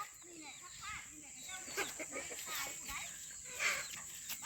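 Chickens on a rural homestead, clucking and chirping in soft scattered calls under someone speaking nearby, moderately close and fairly quiet.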